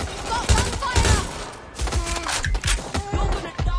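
Rapid bursts of gunfire from a Watch Dogs Legion firefight, several sharp volleys crackling close by in quick succession, with brief game voices amid the shots.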